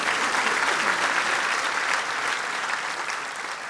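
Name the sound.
audience applause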